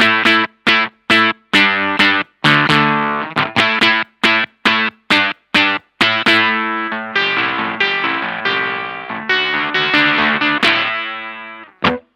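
Electric guitar through a Pigtronix OFO Disnortion pedal's octave effect with bright filter, choppy staccato chords in a quick rhythm giving way to sustained ringing notes, loud, no talking.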